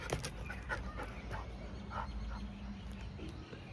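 A dog pants and whimpers close by, with short breathy sounds and a few soft yips over a noisy outdoor background during rain.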